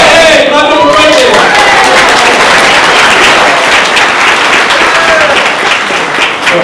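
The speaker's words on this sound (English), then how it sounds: "Clap it for Franklin" Loud, dense audience applause fills a demo day event hall, continuous clapping from a large crowd holding steady to the end.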